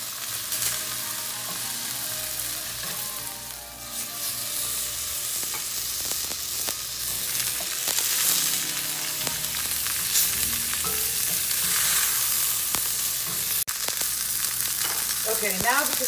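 Bacon-wrapped beef fillets sear in grapeseed oil in a hot pan, a steady loud sizzle and crackle running throughout with scattered pops and a brief clatter near the end.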